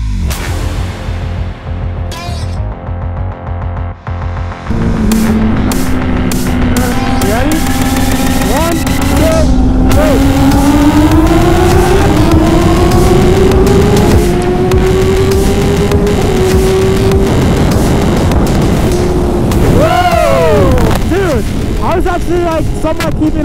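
Two cars racing side by side at full throttle from 60 in second gear, a long, loud rising engine drone that climbs steadily, with a faint upshift near the end and voices under it.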